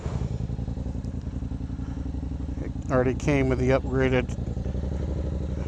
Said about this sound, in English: The M4 exhaust, which you can hear, also was on it when I bought it.